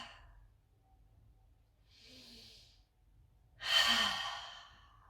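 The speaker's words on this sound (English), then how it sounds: "Inhale through the nose, exhale through the mouth vigorously 3 times." Forceful breathing during a meditation practice, in through the nose and out through the mouth: a soft inhale, a pause, then a loud, close, rushing exhale, heard alone in a quiet room.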